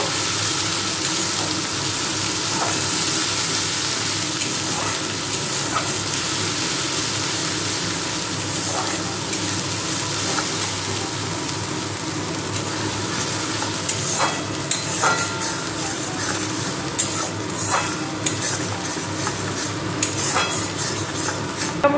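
Cumin and Kashmiri red chili powder frying and being stirred in a pan, a continuous sizzle with frequent light scraping and utensil clinks.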